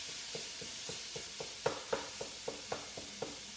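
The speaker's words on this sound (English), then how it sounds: "we're just carrying on and stirring this up" Ground beef being stirred and broken up with a spoon in a pan for beef and gravy, a steady series of soft scraping strokes roughly every third of a second over a faint sizzle, with a few louder knocks midway.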